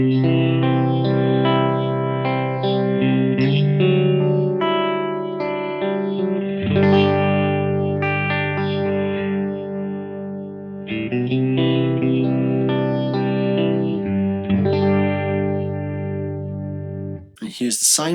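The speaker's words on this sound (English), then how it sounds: "Next up we have a triangle wave. This is a very classic phaser sound." Phaser pedal set to triangle-wave modulation, sweeping across sustained electric guitar chords and notes, loud and continuous with a steady rhythmic whoosh, ending in a brief burst.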